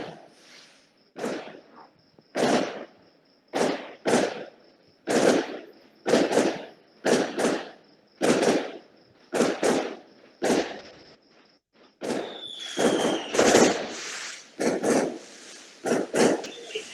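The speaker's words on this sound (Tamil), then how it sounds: "பட்டாசு முடிச்சிடலாம்." Firecrackers go off in a string of sharp loud bangs roughly every second, each ringing briefly, ending in a denser burst of crackling, with a faint steady tone behind them.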